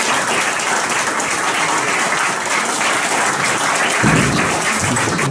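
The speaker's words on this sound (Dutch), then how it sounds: "Graag nogmaals een applaus voor Bart." A crowd applauds loudly and steadily, a dense wash of many hands clapping throughout.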